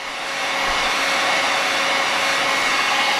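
A hot hair dryer blows a loud, steady whooshing roar while heating shrink wrap on a Summit climber cable, building up in the first half second and then holding constant.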